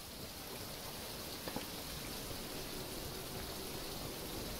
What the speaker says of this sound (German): Es regnet ja auch gerade noch so schön.